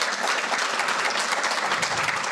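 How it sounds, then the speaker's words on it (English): Steady audience applause for club volunteers at a club talk fills the room, a dense close wash of many hands clapping with no voices over it. "So I need to give them a hand of applause"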